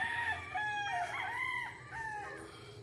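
Roosters crow at a chicken farm in Guerrero, Bauang, La Union, with overlapping calls from more than one bird, moderately near and steady.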